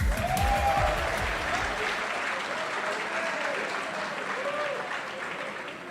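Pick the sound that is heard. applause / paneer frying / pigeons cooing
applause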